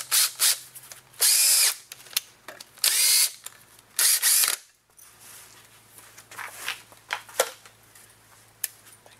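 A power drill drives a second screw into a homemade two-way camera dolly, loud whirring bursts of several seconds each repeating in a close workshop, followed by quieter clicks and handling noises.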